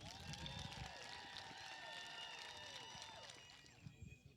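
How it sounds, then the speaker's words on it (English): A church congregation at a Native American worship service applauds its veterans: sustained, fairly distant clapping and crowd noise, with tonal music or singing running through it and the applause thinning toward the end. "give these veterans the most enormous applause they've ever heard"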